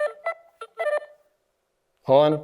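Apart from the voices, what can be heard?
phone ringtones being played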